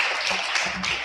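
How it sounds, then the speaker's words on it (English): Applause from the audience at a primary school environment quiz and expo championship, a steady dense wash of clapping held at even loudness for about a second with some faint voices mixed in. "Come on, keep those applause going for our project coordinator."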